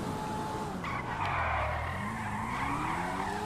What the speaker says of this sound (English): It's a power drift right there.